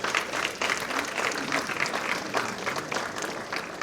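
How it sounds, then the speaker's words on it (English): An audience claps steadily in a hall at a formal ceremony. The applause is dense and sustained, fairly even in loudness throughout, with no voices over it. "And we should give her a round of applause."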